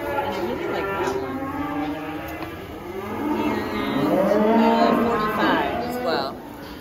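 Cattle moo repeatedly at an exotic animal auction in Missouri, several long, drawn-out lowing calls overlapping at moderate distance, louder in the middle, with a background murmur of voices.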